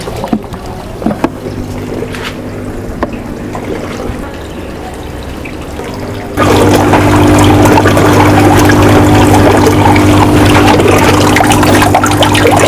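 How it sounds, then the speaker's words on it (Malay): Water rushing out of the siphon of an aquaponics gutter bed in a tilapia system: quiet dripping and trickling at first, then a sudden loud, steady gush of flowing water that continues to the end. "Okay, air dah mula keluar."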